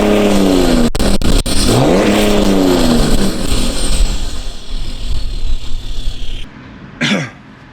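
A tuned BMW E92 330d diesel accelerates hard from inside the cabin, its engine note rising through gears with brief shift breaks, a loud steady roar that drops away near the end with a short cough-like sound.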